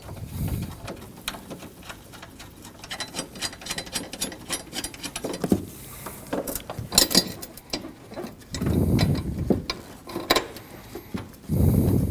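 A ratchet snugs down the hood hinge nuts on a 2015-2022 Chevrolet Colorado, giving close, rapid mechanical clicking in several short runs with pauses between them and no talking.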